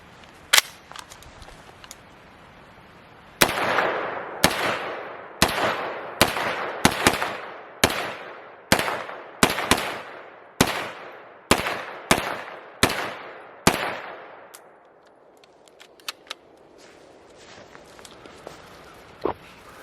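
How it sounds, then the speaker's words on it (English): HK SP5 pistol firing Speer Gold Dot +P hollow point rounds, a dozen loud, sharp shots at a steady, fairly quick pace, each followed by a ringing outdoor echo, with faint clinks afterward. "So let's see how this thing likes Spear Gold Dot Plus P's. We'll shoot a few rounds through it"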